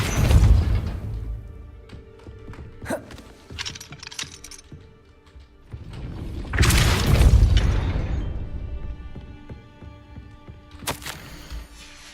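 A Depulso force spell cast in Hogwarts Legacy, heard as a few sharp whooshing blasts with booming low thumps, separated by quieter magical shimmer and clinks, with a strong burst near the middle.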